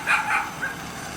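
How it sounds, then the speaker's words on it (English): A dog gives two or three short, close yips or barks in a quick burst, then goes quiet with a low background hum. "Here's the dog."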